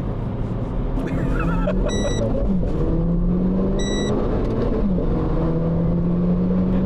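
A car with paddle shifters cruises along, its engine a low, steady hum under constant road and tyre noise, shifting pitch slightly as it changes gears, with brief high beeps near the start and middle.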